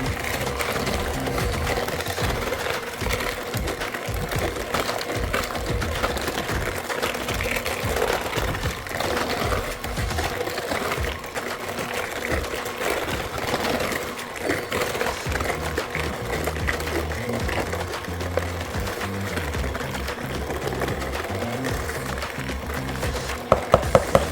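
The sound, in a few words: mixing very berry bread pudding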